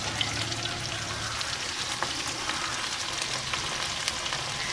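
Chopped onions sautéing in a hot pan for a beef kondattam dish, a steady close sizzle and crackle with soft scraping now and then, no voices.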